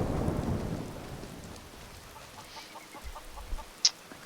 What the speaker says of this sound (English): Wow, it's like a sun shower.